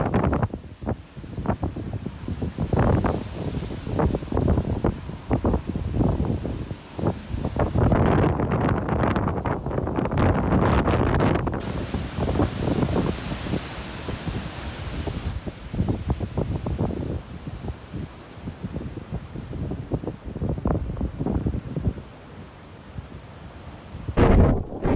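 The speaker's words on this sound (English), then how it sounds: "The building moves with the wind." Extreme Hurricane Sally winds in Pensacola, Florida roar and buffet loudly, with heavy gusty rushing and microphone wind noise that stays strong and continuous, easing briefly near the end.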